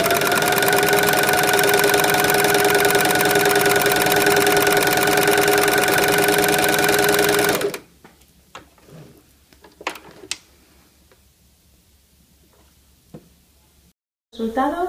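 A sewing machine fitted with a gathering and pleating presser foot stitches fabric in a fast, steady whir for about eight seconds, then stops, leaving faint handling clicks and taps.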